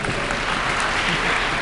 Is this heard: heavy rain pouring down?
no